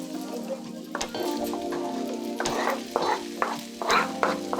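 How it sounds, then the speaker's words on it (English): Vegetables hit a hot cast iron skillet, crackling and sizzling steadily with scattered pops and stirring scrapes, close and moderately loud, no voices. "now I just want to add my veggies into Leroy, my cast iron skillet"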